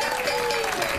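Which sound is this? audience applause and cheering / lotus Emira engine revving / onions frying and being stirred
audience applause and cheering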